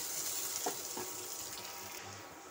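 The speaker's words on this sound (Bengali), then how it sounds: "লঙ্কা জিরে আর পেঁয়াজটাকে আমি ভালো করে লাল লাল করে ভেজে নেব।" Chilies, cumin seeds and onions frying in a kadai for a Bengali shanti shak bhaja, giving a steady soft sizzle with a few faint clinks of stirring, fairly quiet and with no voices.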